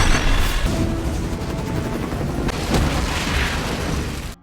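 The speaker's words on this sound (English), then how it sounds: "causing an explosion" Oil barrels exploding in an action movie scene, a loud, close, continuous roaring blast with rumbling crackle lasting several seconds before cutting off abruptly.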